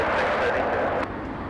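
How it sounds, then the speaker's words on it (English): Broadband jet engine roar from a Southwest Airlines plane in Louisiana 1 livery taxiing toward the runway at Los Angeles International Airport, steady and fairly loud before easing slightly near the end. "we do have the Louisiana 1 livery, Southwest Airlines, heading to the runway for departure"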